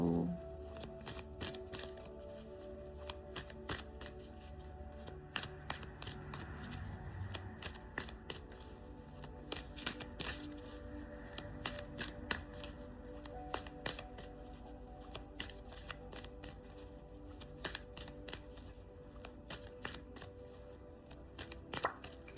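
Cards being shuffled continuously at close range, a steady rapid flutter of crisp riffling clicks over faint background tones, with no talking.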